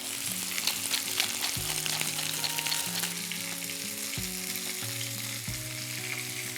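Chicken pieces for chicken moghrabieh fry in a salted and peppered pan, a steady, close, loud sizzle running throughout with no one speaking, while a tonal musical background plays underneath.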